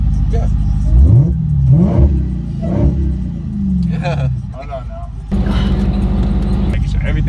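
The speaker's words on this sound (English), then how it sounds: "You rev it one more time." A Dodge Hellcat, in sport mode and in neutral, is revved loudly several times in quick blips that rise and fall, then settles into a rough idle rumble, with people talking around it.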